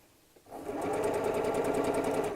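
A sewing machine stitches frill fabric for a baby nest, starting after a brief quiet moment and then running in a fast, steady, close mechanical whir with rapid rhythmic clicking.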